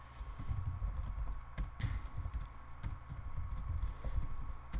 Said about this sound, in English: I have trouble typing because it's right in front of my keyboard